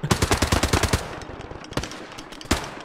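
Machine gun firing in the WWII shooter Hell Let Loose, a loud rapid burst of about a dozen evenly spaced shots for the first second, then a few isolated single shots with echoing tails.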